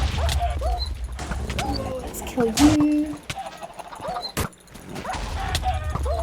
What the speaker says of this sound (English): I'm being hit by a dog or something.